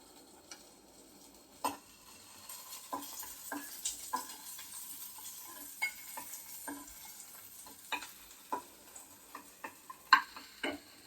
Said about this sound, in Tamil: பாருங்கள் வெங்காயம் ஓரளவு வதங்கிடுச்சு